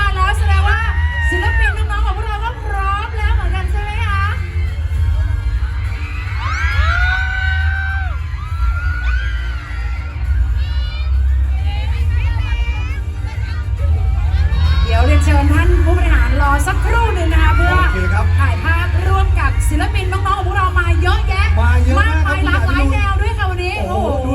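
A large concert crowd in Nong Khai, Thailand roars with overlapping high-pitched screams, whoops and chatter, loud throughout and swelling even louder partway through.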